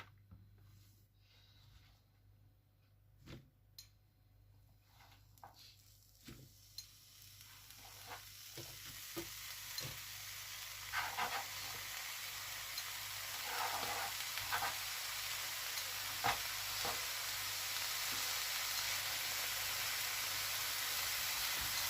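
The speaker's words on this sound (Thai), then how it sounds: "เดี๋ยวเราไปลวนในกระทะกันจ้ะให้น้ำเห็ดมันออกก่อน" Black mushrooms are stir-fried in a pan. A soft sizzle builds steadily into a loud, continuous hiss, broken by scattered clinks and scrapes of stirring, with no talk.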